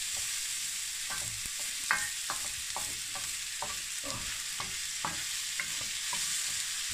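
Chorizo and other food frying in a pan, sizzling steadily while a utensil scrapes and stirs in repeated, irregular strokes, close up with no talking.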